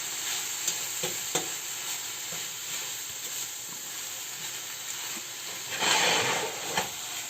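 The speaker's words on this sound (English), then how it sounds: "And then you stir it up." Sauce bubbles and sizzles softly in a pan while a utensil stirs it, giving gentle scraping taps and a brief louder swirl near the end, with no one talking.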